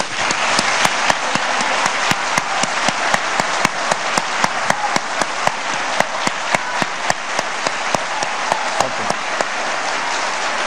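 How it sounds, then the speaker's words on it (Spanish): Sustained applause from the audience at a 2016 presidential runoff debate between two candidates, a thick wash of clapping with sharp individual claps standing out near the recorder throughout. "pido un aplauso para los dos candidatos"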